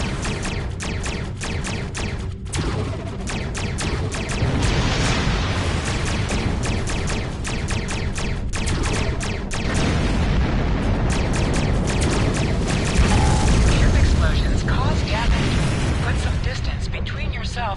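Starships exploding in a Star Trek Discovery space battle: dense, continuous booming blasts and bursts layered over a loud roar, with talk mixed in throughout.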